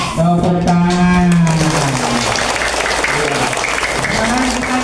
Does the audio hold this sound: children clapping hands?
yes